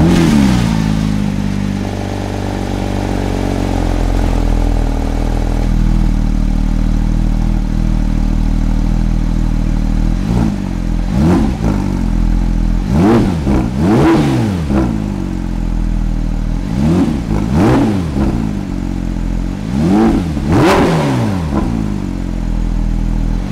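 A new Porsche GT3's engine idles steadily and then is blipped through a series of sharp revs, each rising and falling, loud and close.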